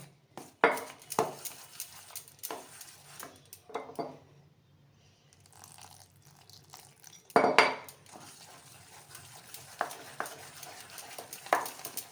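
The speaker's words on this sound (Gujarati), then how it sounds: "પાણી નાખતું જવાનું છે ને મિક્સ કરતું જવાનું છે" A spoon clinks and scrapes against a bowl in scattered bursts while water is added to batter, with soft stirring sounds between the louder knocks and no voices.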